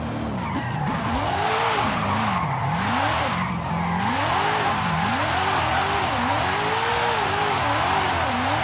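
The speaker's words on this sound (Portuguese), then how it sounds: "Vamos ver como que nós tá mandando aqui o nosso carro de drift, né?" A BMW M2 drift car skids through a roundabout, its tires squealing steadily while the engine revs rise and fall in repeated sweeps, loud and close throughout.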